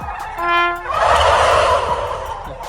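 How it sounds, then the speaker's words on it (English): Turkeys gobble loudly and repeatedly, a rapid warbling burst followed by a dense chorus of overlapping gobbles from several birds. "Turkeys are always an engaged audience no matter what you do."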